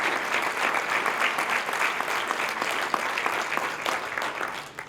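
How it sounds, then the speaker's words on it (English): Volunteers and members at a community TV station's 25th anniversary celebration get a full round of applause, dense and continuous from a sizeable crowd, steady throughout at moderate loudness. "So a round of applause for all of you, our volunteers and members."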